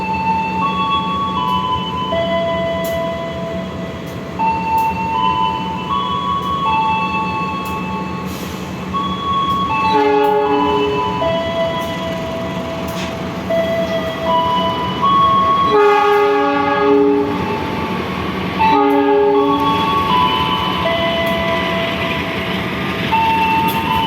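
An Indonesian Sembrani passenger train passes close by, with a sustained rumble of wheels and cars and several loud horn blasts sounding repeatedly across the pass.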